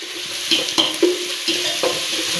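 Curry leaves and dried chillies, with crushed garlic, frying in oil in a pan for lemon pickle, a close crackling sizzle with a few sharp pops and spatula knocks, no talk.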